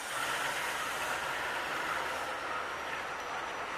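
A shunting locomotive moves into a rail depot, producing a steady, loud, close rumble of engine and rolling wheels with a broad hiss that fades slightly toward the end.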